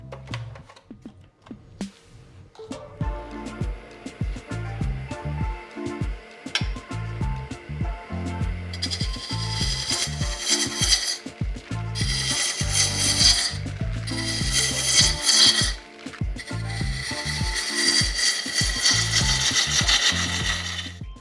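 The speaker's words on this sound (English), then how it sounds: "I've got my spindle roughing gouge, which will still work for part of this shaping" A spindle roughing gouge cuts black acacia stump wood spinning on a lathe between centers, a steady rapid chattering hum that grows louder with bright scraping bursts partway through.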